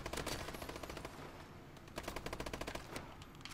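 Rapid automatic gunfire from a multiplayer free-for-all match in Call of Duty: Advanced Warfare, dense overlapping bursts rattling continuously at close range, fairly loud with no talking over it.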